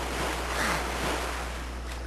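Ocean water sloshing and surf as a character swims in The Legend of Zelda: The Wind Waker, a steady soft wash of waves with airy wind noise throughout, no voices.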